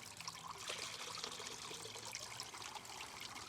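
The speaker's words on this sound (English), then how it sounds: "We got a little bit of water, wash it down." Water poured to wash tailings down through a Dreamhopper prospecting sluise, a continuous close trickling and splashing stream that stays even throughout, with no talking.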